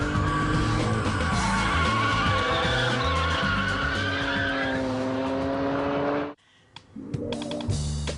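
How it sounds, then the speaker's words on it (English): A Hartge-tuned BMW 3 Series Compact drifts hard with a long, loud tire squeal over a revving engine, then cuts off abruptly before softer engine noise returns. "if you pile on the power, then you can experience the vicious side drift"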